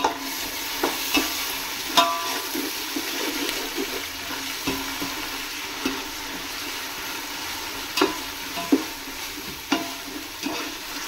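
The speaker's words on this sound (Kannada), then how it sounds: "ಇದು ಶುಂಠಿ ಬೆಳ್ಳುಳ್ಳಿ ಪೇಸ್ಟು ಫ್ರೈ ಆಗಿದೆ." Ginger garlic paste frying in a pan for biryani gives a steady sizzle with occasional stirring scrapes and clicks, close and continuous throughout.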